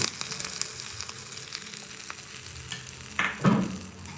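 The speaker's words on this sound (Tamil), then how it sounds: "நல்லா தாளித்ததுக்கப்புறமா அரைச்சி வச்சுருக்கேன் சட்னியில் ஊற்றிடலாம்." Hot tempering with curry leaves poured into ground peanut chutney, a sharp sizzling burst near the end after a quieter stretch of low kitchen noise.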